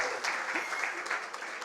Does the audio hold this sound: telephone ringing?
no